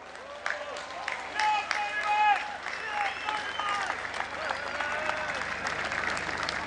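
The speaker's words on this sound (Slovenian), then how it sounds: "predlagam, da zaploskamo temu rojstnemu dnevu" Crowd applauding at an outdoor May Day bonfire celebration on Rožnik hill in Ljubljana, steady clapping from many people beneath loud voices and shouts close by.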